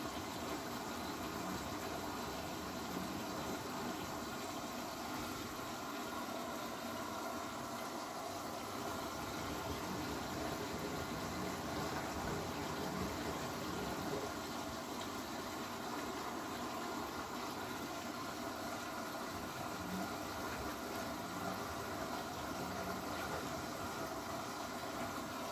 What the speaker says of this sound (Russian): Посмотрим, сколько будет воды на полоскании.